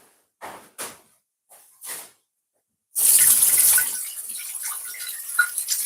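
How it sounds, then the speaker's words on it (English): Hands washed under a running kitchen tap, with a few short splashes first, then a loud, steady gush of water that settles into continuous running and splashing, close by and with no talking. "Just giving my hands a bit of wash."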